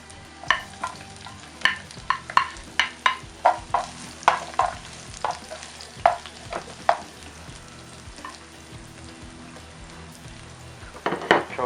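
Onions sauteing in oil in a hot wok for curried Singapore noodles, steady sizzle under repeated clanking stirs and scrapes of a utensil against the pan, close and clear, with no talk.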